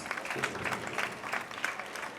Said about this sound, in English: A round of applause to the children, please.